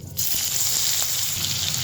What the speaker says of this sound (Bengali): আলুগুলোকে প্রথমে একটু তেলের সঙ্গে হালকা করে ভেজে নেব